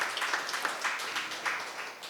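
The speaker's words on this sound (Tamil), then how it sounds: "நல்ல கைத்தட்டல்களை கொடுக்கலாம்." An audience at an elders' welfare celebration held by a Madurai community association claps, a moderately loud, sustained patter of applause through the whole span with no one speaking over it.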